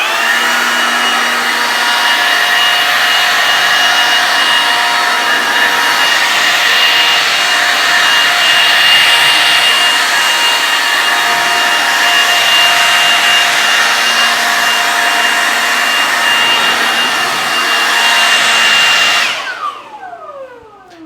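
A cordless battery leaf blower drying a car windshield gives a loud, steady close-up roar of rushing air that holds for about nineteen seconds, then cuts off abruptly and winds down.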